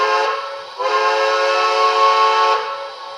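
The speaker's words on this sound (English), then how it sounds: "Already got the whistle programmed in." A steam whistle from a TCS WOW sound decoder in a PRR M1b model locomotive blows steadily for about three seconds, bright and tonal, swelling louder in the middle.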